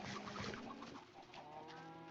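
Chickens cluck softly in the video game Minecraft, a few short repeated clucks at low volume over a faint steady background, with no speech.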